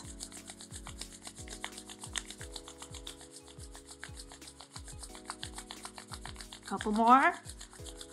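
Palms rubbing briskly together in a steady back-and-forth rhythm, close and fairly soft, over gentle background music, with a brief spoken prompt near the end.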